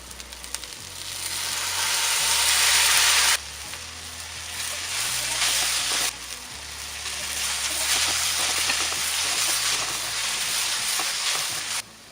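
Onion, tomato and red chili paste frying in butter in a pan for street-style Mumbai pav bhaji, a steady loud sizzle with occasional stirring scrapes and a lull partway through, under a faint background hum.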